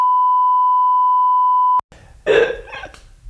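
A steady, loud electronic censor beep holds one pitch for nearly two seconds, cuts off abruptly, and then someone starts talking.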